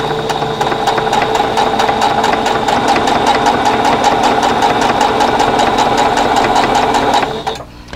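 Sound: sewing machine chain piecing quilt block units

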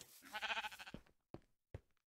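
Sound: sheep bleating in the video game Minecraft

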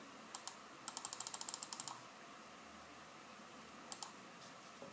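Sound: computer mouse clicking in Illustrator

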